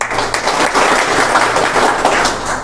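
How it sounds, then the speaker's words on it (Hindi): A round of applause from the audience at a Furniture and Fittings Skill Council event, a full, even burst of many people clapping together that holds steady and tapers slightly at the end, with no voices. "उसके लिए एक बार तालियां."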